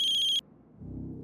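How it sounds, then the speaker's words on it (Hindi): A landline telephone rings with a bright, warbling electronic trill that cuts off after less than half a second, leaving a low murmur behind. "सनी के राजकोट वाले घर की लैंडलाइन से फोन है."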